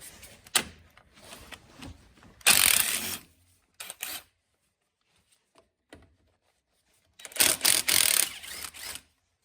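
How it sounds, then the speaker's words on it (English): Impact gun driving a 12mm deep socket while installing disc brakes on a Honda Fourtrax 300 ATV, with short sharp bursts of rattling hammering separated by quiet gaps and light tool handling. "You could actually use a ratchet for this, but I'm gonna be using this, as well as the impact gun again, just to get this done fairly quickly."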